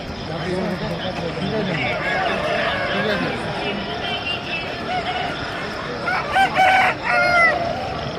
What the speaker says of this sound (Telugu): మీ సంతలో ఎన్ని పుంజులు తెచ్చినారు